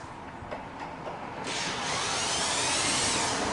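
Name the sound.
driving screws into a cutting table with a power drill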